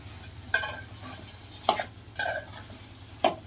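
Eggplant (brinjal) is stirred into tomato curry in a pan for a Telangana-style green chilli eggplant curry: four distinct scraping, clattering spoon strokes at uneven intervals over a low background hum, close and fairly loud, with no voices.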